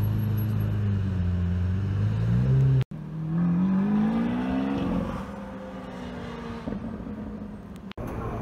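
A Pagani Zonda Riviera supercar revs on a Paris street, its engine note climbing and falling in loud, close sweeps, then settling into a lower rumble as it pulls away, with a sharp break between bursts.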